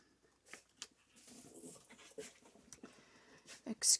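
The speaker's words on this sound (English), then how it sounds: "The dogs have decided to play." Indoors at night, dogs play nearby, panting, whimpering and scuffling in short irregular bursts that stay fairly faint.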